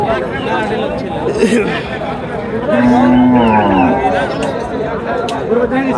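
Cattle at a Rajshahi market for pregnant cows, with one long, loud moo rising midway through steady crowd chatter and nearby talking.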